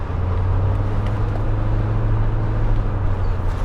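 Cabin sound of a 1986 Porsche 928S cruising on the road: a constant deep engine hum with a low steady tone, layered with road rumble, loud and unbroken, no voices.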